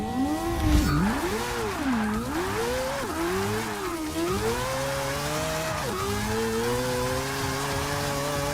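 A 2014 Nissan Juke Nismo RS in Forza 6 spins its tires at a drag launch, the engine howling and rising in pitch with a steady tire squeal through repeated gear changes, loud and continuous with no talk.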